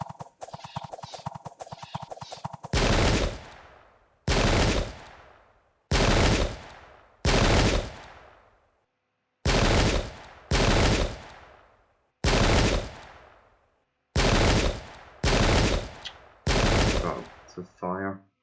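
Musket volleys fired at dragoons in the Pike and Shot battle game, Irish Jacobites against Russians: about ten loud separate blasts, each with a long decaying tail, in an irregular rhythm after a brief clattering start.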